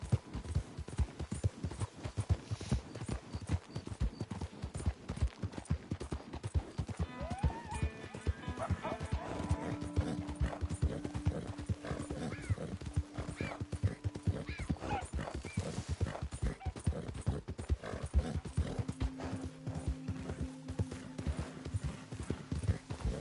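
Horse hooves clip-clopping in a steady trotting rhythm in Red Dead Redemption 2, with occasional snorts, a whinny and faint background tones underneath.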